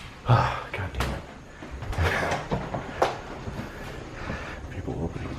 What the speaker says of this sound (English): People opening doors on me.